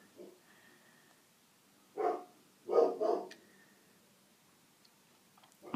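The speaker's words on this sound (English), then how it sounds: "You'll have to excuse the dogs if you can hear them." Dogs bark a few times in a quiet space, one bark then a quick double bark, moderately close, with silence around them.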